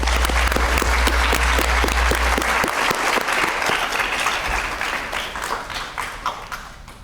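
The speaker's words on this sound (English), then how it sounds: "Let's give them a round of applause." An audience at a public conversation event gives sustained applause, loud and dense, with distinct sharp claps early on that blend into a steady roar before gradually easing.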